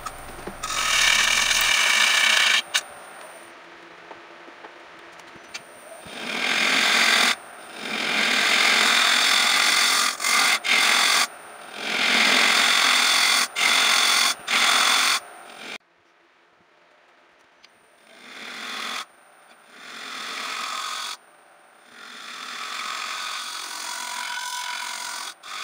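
Carbide tool finishing a black walnut bowl on a lathe, several bursts of scraping and hissing cutting noise a few seconds long, alternating with quieter gaps where the tool is lifted.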